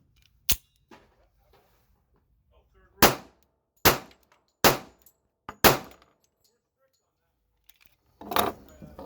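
A Tisas Bantam pistol fires test ammo in about six sharp, close shots at irregular intervals, with brief pauses and small handling clicks between them.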